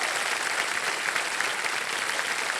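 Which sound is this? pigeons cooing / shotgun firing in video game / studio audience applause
studio audience applause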